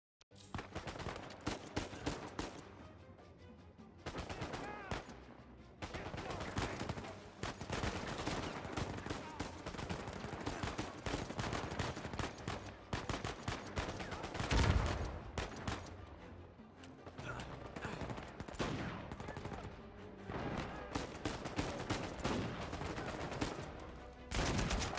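Sustained gunfire on hard difficulty in Uncharted 4, with dense overlapping shots and automatic bursts running almost without pause. The firing sounds fairly distant and steady.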